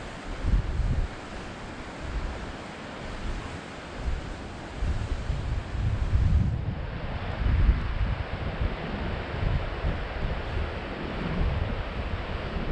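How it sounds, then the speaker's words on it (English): Wind and big waves along the coast near Findlater Castle by Cullen, a loud continuous roar of surf with heavy wind buffeting the microphone throughout, no voices. "with the wind and the big waves, it all adds to the drama"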